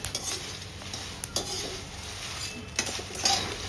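Chilies roast in a pan with a little oil for a masala spice mix, with a soft continuous sizzle, a few metallic scrapes and clinks of a spoon stirring, close and alone.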